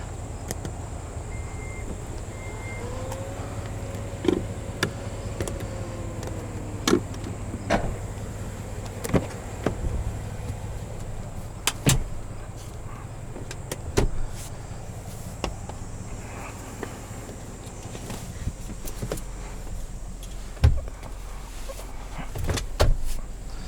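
Power seat motors whirring in a 2021 GMC Yukon SLT cabin, a faint rising and falling motor hum with scattered clicks and small knocks over a low steady interior rumble.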